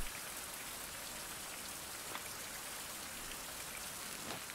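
Rainfall in the survival video game Fountain of Youth, a soft, even hiss of steady downpour with a few faint droplet ticks, quiet and continuous with no talking.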